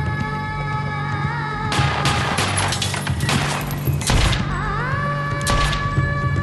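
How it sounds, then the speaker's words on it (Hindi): Rapid bursts of gunfire in a TV news segment on underworld shootouts, several sharp cracks and booms clustered together, loud and close, set against a steady background of music and mechanical tones. "चलती हैं गोलियां"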